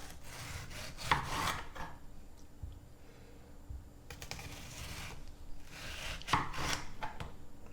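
A knife slicing a green Brandywine tomato into quarter-inch slices on a board, three separate bursts of rasping cuts, each ending in a soft tap, close and quiet.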